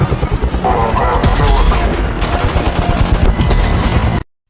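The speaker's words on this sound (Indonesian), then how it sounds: "Penembak dengan senapan mesin dari helikopter menargetkan Mike." A machine gun fires from a helicopter in an action film, a loud, close, continuous burst of rapid shots with booming impacts that cuts off abruptly at the end.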